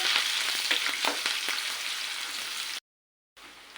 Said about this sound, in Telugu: ఇప్పుడు ఆనియన్స్ వేసుకున్నాము పచ్చిమిర్చి కూడా వేసుకున్నాం కలుపుకున్నామండి